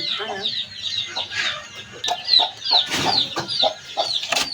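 Several chickens cluck and chatter close by in quick, overlapping bursts, with no pauses in the clucking.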